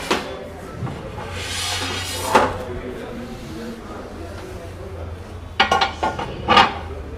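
Cutlery and spoons rattle and clink in an internal drawer of a modern modular kitchen, with a few sharp metallic bursts mixed among people talking.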